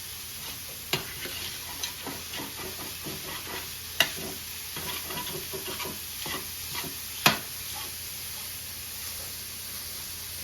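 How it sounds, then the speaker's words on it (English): Sausage sizzles in a stainless steel pan while a utensil breaks it into smaller pieces. A constant hiss of frying runs under scattered scraping and sharp taps against the metal, with several louder clicks along the way. "just kind of break up the pieces into smaller little pieces here, so you get a nice fine brown sausage"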